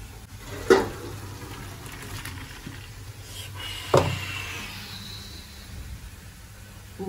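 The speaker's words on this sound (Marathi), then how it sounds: "तर आपल्याला पाणी काढायचं याचं आता" Water drained off half-cooked rice in a kitchen pot, a soft continuous pouring and trickling with two louder clanks of the vessel, fairly quiet and without talk.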